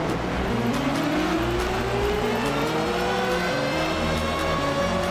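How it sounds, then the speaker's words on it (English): Stock cars roar continuously in an iRacing NASCAR Cup Series race at Talladega Superspeedway, a dense loud pack of engines droning steadily with a slowly rising pitch as the field runs flat out. "The only music you should hear is the thundering roar of those stock cars."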